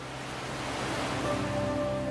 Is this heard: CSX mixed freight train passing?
no